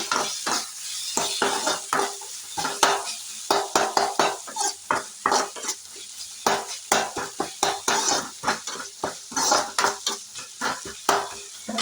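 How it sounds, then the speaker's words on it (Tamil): Pasta and masala are stirred in a hot pan for a Chinese-style pasta dish: a spoon scrapes in steady, repeated strokes against the metal, close and clear over a soft continuous sizzle. "நல்லா மிக்ஸ் பண்ணிக்கோங்க."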